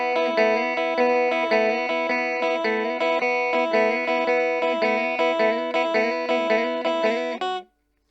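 Electric guitar playing the opening rockabilly phrase of a song in E, a long run of repeated double-stop notes in steady rhythm with a bright, slightly driven tone, played alone and ending abruptly.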